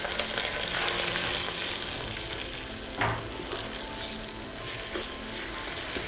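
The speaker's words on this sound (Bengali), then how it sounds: "ভালোভাবে নেড়ে চেড়ে নিচ্ছি" Polao rice grains stirred in hot oil in a pan give a steady, close frying sizzle with a brief scraping stir near the middle; no one speaks.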